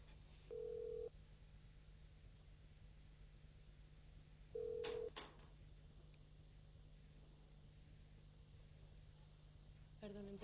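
A telephone gives two short electronic ring tones a few seconds apart, faint and distant against a steady low hum in an indoor room.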